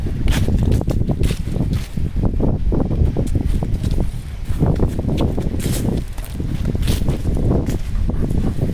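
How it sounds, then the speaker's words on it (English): Heavy low rumbling buffets of wind hitting a OnePlus 7T Pro phone microphone outdoors while walking, continuous and loud, with faint thuds like footsteps underneath. "it's a bit windy, so you probably hear a bit of wind noise here"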